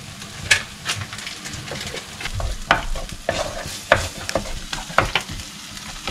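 Masala and lotus root sautéing and stirred in a pan for a Tamil stir-fry, with a steady close sizzle broken by repeated scraping strokes of a spoon against the pan, no talking.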